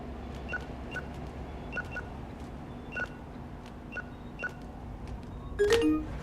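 Short electronic beeps repeat at irregular intervals in Retro Rewind: Video Store Simulator, a retro video-store sim game. A louder, busier chirp comes near the end over a low steady hum.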